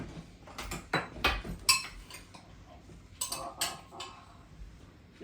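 A spoon scrapes and knocks around inside a Philips 5000 Series blender jar, loosening thick contents stuck to the sides, giving a string of close, sharp clinks and scraping strokes in irregular bursts.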